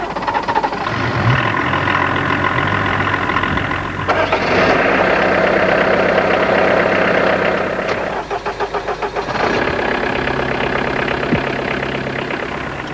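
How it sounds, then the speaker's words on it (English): A cold diesel car engine cranks and catches in the early morning, then settles into a loud, close, clattering idle with a rough knocking rhythm that briefly changes pitch as it runs. "The early morning start-up, the crackle of the cold engine and the cloud of black smoke it emits."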